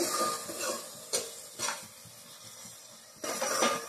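Mushroom curry being stirred in a pan, with a few scraping strokes of a spoon over a steady low sizzle, close and moderately loud, no talking.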